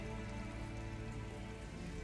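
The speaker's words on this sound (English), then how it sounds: "It's raining too." Steady, dense rain hiss in the video game Detroit: Become Human fills the space evenly, a constant wash of pattering with no talk.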